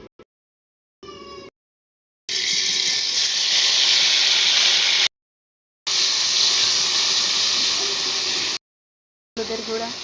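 Ground coriander-leaf paste frying in hot oil gives a loud, steady hiss in two long bursts with short gaps between, plus a brief clip of something else at the start.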